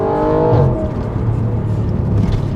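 An Audi RS4 Avant with a 4.2 V8 and sports exhaust roars loudly and steadily nearby, its deep engine note rising briefly in pitch before settling into a sustained rumble.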